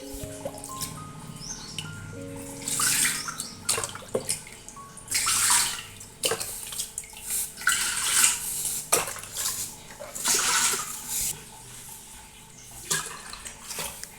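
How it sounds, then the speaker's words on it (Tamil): Water is poured into a cooking pot in bursts, splashing and gurgling against the metal with occasional clinks of utensils, as a base for vadaam batter in a home kitchen. "இப்போ தண்ணி 15 டம்ளர் ஊற்றி கொதிக்க வச்சுக்கலாம்."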